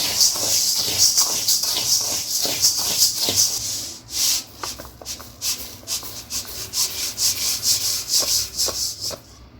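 Mixed grains and cereals being dry roasted in a pan for a multigrain health-mix flour give a steady, close scraping and rustling as they are stirred, with a continuous rough texture and no voices.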